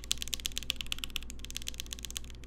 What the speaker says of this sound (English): How do the far right page keys sound with the Artisans?